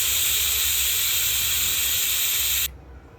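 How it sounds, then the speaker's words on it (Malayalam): A pressure cooker whistle blasts loud, continuous steam while green gram payasam cooks, a strong sustained hiss that cuts off abruptly near the end, leaving quiet kitchen background. "ഈ സമയത്തിനുള്ളിൽ നമ്മുടെ കുക്കർ വിസിൽ വന്ന് തുടങ്ങി."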